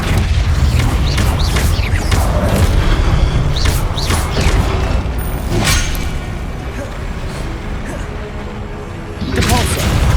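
Spell combat in Hogwarts Legacy with the Flipendo spell cast amid loud booms, crashes and thuds, a dense chaotic mix of impacts and magical whooshes, with a voice shouting spell names over it.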